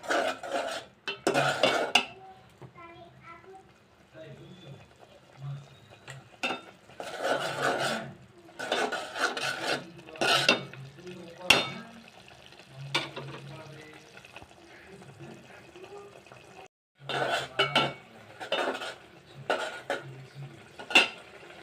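Bottle gourd and shrimp are stirred in a pan with a metal spoon, giving repeated clanking, scraping bursts over a soft sizzle, with brief pauses between strokes, close and fairly loud.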